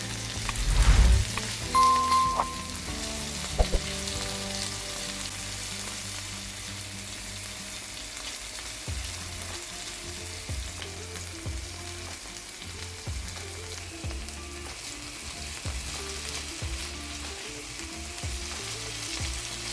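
Tomato and other vegetables fry in a pan with a steady, close sizzle and occasional stirring scrapes, under soft background music with no talking.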